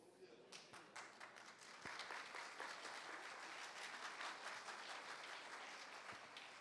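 Audience applause at a talk on internal audit performance indicators, a dense, sustained clapping from a room full of people, fairly faint and even, swelling slightly then fading near the end.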